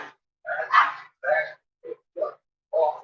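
Dog barks six times in quick irregular bursts, sharp and fairly close, with short silences between each bark.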